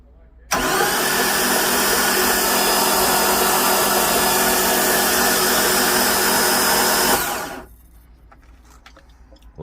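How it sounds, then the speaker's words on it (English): Marine Volvo Penta engine cranking over on its starter motor after a head install, a loud steady whirring drone that starts abruptly, holds for about seven seconds, then cuts off into quiet. "Let's get some power to our starter here and watch these crank."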